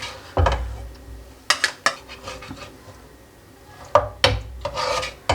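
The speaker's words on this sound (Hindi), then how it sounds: "तो थोड़ा सा चिकन हम इसमें से निकाल लेंगे।" A metal utensil scrapes and knocks against a cooking pot while cooked chicken is lifted out for chicken biryani, giving sharp clanks and scrapes in irregular bursts, with quieter rustling between them and no speech.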